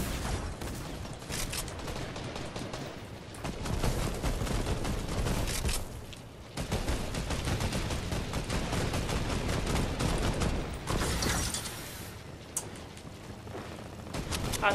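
Dense video game gunfire fills the stretch, with rapid overlapping bursts and volleys that rise and fall in steady waves, a brief lull midway, then dense firing again.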